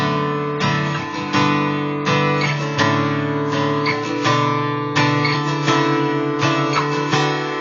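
Strummed guitar chords step upward one after another, each ringing out clearly, played solo at a steady, unhurried pace.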